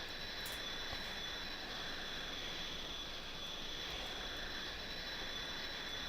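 A light plane flies on a cross-country trip from Phoenix to Flagstaff, heard as a steady, loud engine drone with a constant whine and no breaks. No one speaks over it.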